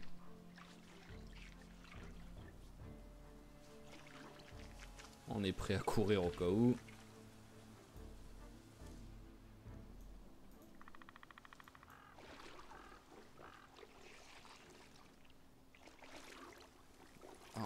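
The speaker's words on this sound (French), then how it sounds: "le bruit de l'eau, du fait qu'il se lave" Running shower water in the zombie survival video game Project Zomboid, a steady hiss under someone speaking French, with a louder watery burst around the middle.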